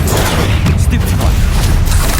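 A Stupefy spell fired in the video game Hogwarts Legacy lands as a loud booming blast with thudding impacts, the spell effects rumbling continuously through the short moment.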